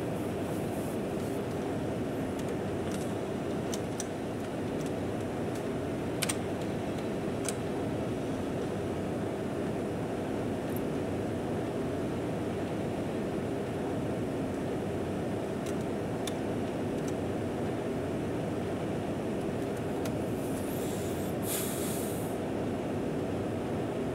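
A train rolls steadily through a video game level, giving a continuous loud rumble and rattle of wheels on track for the whole stretch, with a few faint clicks and a brief hiss near the end.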